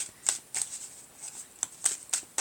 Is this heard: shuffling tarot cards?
yes